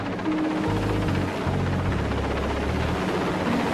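A rescue helicopter lifting survivors from a North Sea rig in a gale, its steady loud rotor and engine roar droning without pause, close and dominant.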